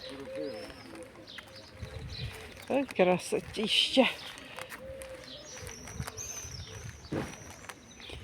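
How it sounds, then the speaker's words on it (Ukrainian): Pigeons coo from tall fir trees in a green seaside rest area, soft low calls repeating in the background while someone speaks nearby and other birds chirp faintly. "Чуєш, як ці голуби?"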